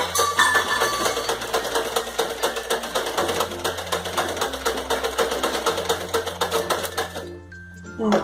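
A tailoring sewing machine, just fitted with a new needle, stitching in a rapid steady mechanical clatter with dense repetitive ticking, close and fairly loud throughout, stopping near the end.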